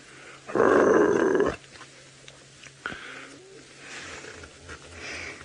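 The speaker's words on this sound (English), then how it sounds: "You can still hear him growling." A large wild animal on a sunset safari drive gives a low rumbling growl lasting about a second, fairly loud and close, followed by quieter ambient sounds and faint bird calls.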